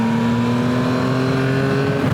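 A Yamaha Tracer 9 GT motorcycle pulls hard on a motorway, its engine holding a loud, steady droning note with rising tonal whine under constant wind rush, close and continuous with no talking.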